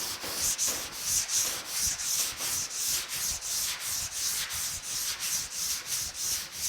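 A sanding block rubs back and forth across the guide-coated hood of a 1950 Chevy truck, a steady rhythmic scrubbing with regular strokes, close and continuous with no talking.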